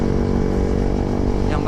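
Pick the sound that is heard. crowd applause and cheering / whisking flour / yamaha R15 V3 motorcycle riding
yamaha R15 V3 motorcycle riding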